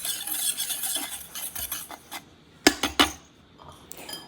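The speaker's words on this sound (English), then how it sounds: "Let's combine the sugar and the all-purpose flour into the top of the double boiler without the heat. And let's whisk together until thoroughly blended." A whisk scrapes and stirs dry sugar and all-purpose flour in the top pan of a double boiler, with irregular rubbing strokes and a few sharp metallic clinks against the pan, close and fairly quiet.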